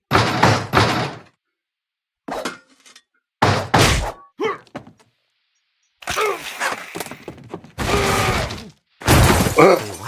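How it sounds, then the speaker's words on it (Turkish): Heavy wooden door in the video game What Remains of Edith Finch being forced open: a series of loud thuds, bangs and cracking impacts in separate bursts with silent gaps between them, close and forceful. "Kır hadi kapıyı da biz de gidelim."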